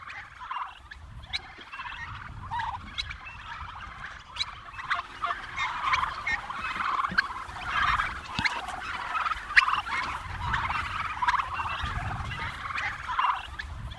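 Turkeys gobble again and again on a turkey farm, a chattering flock calling over one another outdoors, fairly close and loud throughout.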